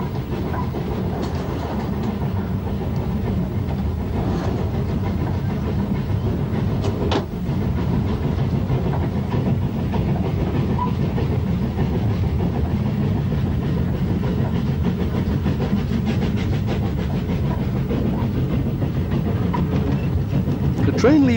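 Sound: train climbing moorland line to Brecon, 1962

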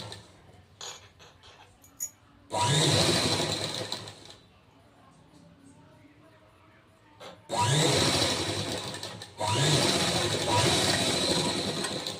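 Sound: sewing machine stitching a blouse waistband

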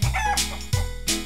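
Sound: hen clucking

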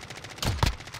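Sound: gunshots in video game Warzone

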